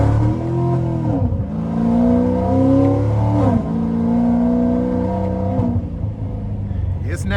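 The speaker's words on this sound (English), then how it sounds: "starting the test drive in this Procharged Vet." A Procharged 2016 Corvette Z51 3LT with roughly 850 horsepower accelerating on the road, engine pitch rising and falling through several loud revving sweeps, heard from inside the car with speech over it.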